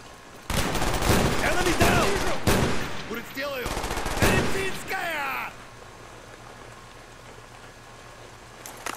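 Rapid automatic gunfire from a gun in the video game Call of Duty: Black Ops, loud dense bursts over the first half, then fading into quiet ambience, with a voice speaking along with it.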